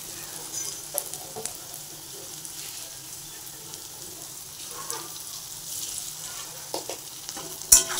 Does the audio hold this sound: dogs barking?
no